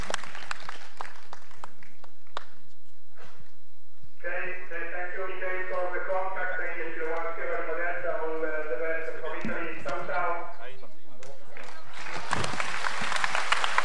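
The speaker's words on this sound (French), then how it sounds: "je vous demande d'applaudir les enfants" Children get applause from an audience at a youth astronomy festival linked to a radio contact with the ISS. A broad burst of clapping swells near the end, after a sustained humming, voice-like tone and some scattered sounds.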